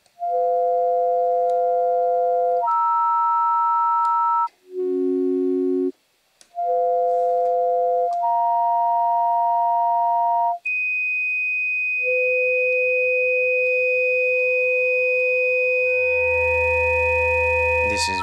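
A modular synthesizer feedback patch produces pure, steady electronic tones that hold and shift between pitches in long sustained notes, ending in a noisy, growling burst.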